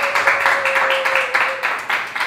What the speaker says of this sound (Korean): 박수로. 너무 축하드려요.